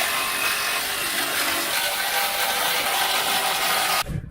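Rapid ratchet clicking while tightening an exhaust clamp on a Dodge RAM 2500, a dense, close, continuous buzz of pawl clicks lasting about four seconds before stopping abruptly.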